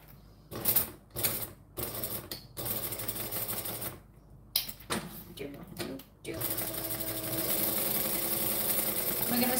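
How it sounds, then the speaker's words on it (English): A sewing machine stitches pieces of reptile-print fabric right sides together. Short whirring bursts of stitching stop and start, then give way to a longer steady run, all close and loud, with someone talking at times. "We're going to stitch these right sides together."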